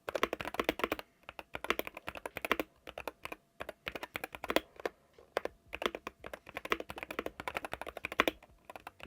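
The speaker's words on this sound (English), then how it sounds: "Out of the box, it's not the best sounding keyboard in the world." A stock, unmodded Wooting gaming keyboard typed on in a quick continuous stream of close, sharp key clacks with brief pauses, alone and without talk.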